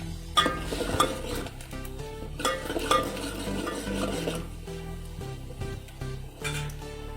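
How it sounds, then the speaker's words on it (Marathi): Onions roast in a pan over a wood-fired village stove for mutton curry. A utensil scrapes and clinks against the pan in irregular strokes, close up, with a faint sizzle beneath and no talking. "कांदा व्यवस्थित भाजून घ्यायचा कांदा चांगला लाल होईपर्यंत भाजायचा"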